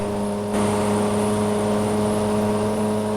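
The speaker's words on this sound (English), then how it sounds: "Wow, that engine revs high." A truck engine in American Truck Simulator held at high revs, a loud steady drone with strong constant harmonics and a slight step up in intensity early on, no voices.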